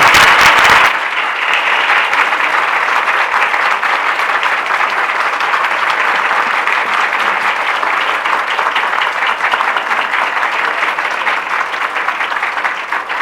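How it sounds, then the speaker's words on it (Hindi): Audience at a satsang breaks into loud, steady applause after a short opening burst, many hands clapping together at close range without letting up. "आज खुशी हो रही ताली चलाओ"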